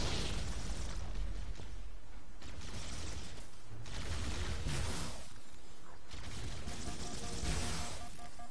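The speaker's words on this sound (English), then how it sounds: "I'm gonna wait for this grenade." Grenade explosions thunder in the Halo video game amid combat, with loud crashing booms in waves over a constant roar of battle noise, no voices.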